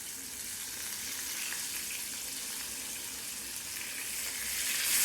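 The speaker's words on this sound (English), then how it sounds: "now that the oil is hot, you're gonna go ahead and add the wings" Batter-coated chicken wings frying in hot oil make a constant, even hiss and crackle that holds steady throughout and swells slightly toward the end, with no voices.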